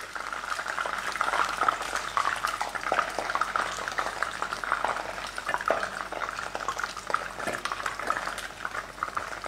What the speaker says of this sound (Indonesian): Jadi kita makanya gorengnya sedikit lebih lama.